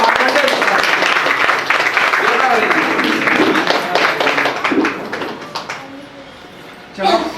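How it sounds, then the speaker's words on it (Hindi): Loud crowd applause welcoming a speaker onto the stage at a motivational seminar, dense clapping with voices mixed in that fades toward the end before a brief final burst. "तो जोरदार तालियों से स्वागत करिए"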